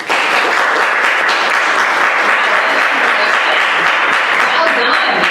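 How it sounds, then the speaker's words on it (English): Sustained, dense audience applause fills the room as Bianca Gates, co-founder and CEO of Birdies, is welcomed on stage, loud and even throughout, with no voices rising above it. "A round of applause for Ms. Bianca Gates."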